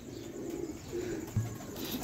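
Pigeons kept as breeding pairs coo softly, with one short low coo standing out against faint background noise.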